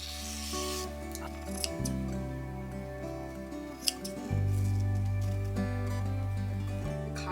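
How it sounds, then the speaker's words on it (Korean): Scissors cut paper into a square along a printed pattern, the blade braced against a surface. There are a few sharp snips and soft rasping strokes over a steady low hum in the room. "바닥에 가위를 받치고 자르면 훨씬 편해요"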